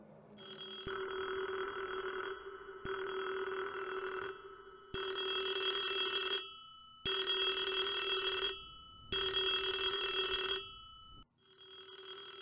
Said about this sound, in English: I need to answer the phone.